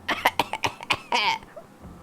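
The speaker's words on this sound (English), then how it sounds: "Fake coughing." A game character in Chinatown Detective Agency gives a short series of staged coughs, several quick dry bursts followed by a longer throat-clearing rasp, close and clear with no talk.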